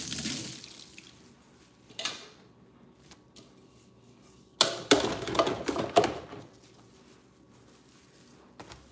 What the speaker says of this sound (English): Put too much hot water in now.